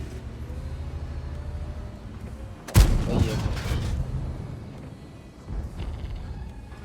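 Tank cannon firing armor-piercing shells in World of Tanks: one sudden loud boom with a rumbling tail, followed a couple of seconds later by a smaller second blast, over a constant engine drone.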